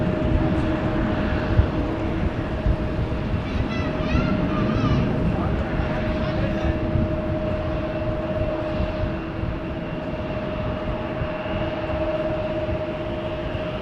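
A KLM airliner, flight 1903, at Amsterdam Schiphol Airport gives a steady, moderately loud engine roar with a sustained tonal whine throughout, while people talk faintly in the background.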